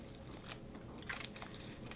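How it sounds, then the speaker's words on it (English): A pet bird gnaws on a piece of yucca wood, giving faint, scattered crunches and nibbling clicks at close range, with a few sharper bites standing out against quiet room background. "He does like to chew wood."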